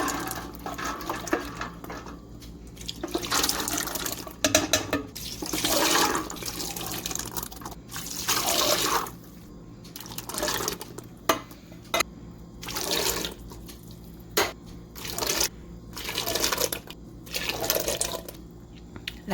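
Canned black-eyed peas with their liquid are tipped into a soup pot, making a series of wet, sloshing glugs and splashes in irregular bursts with short pauses between pours.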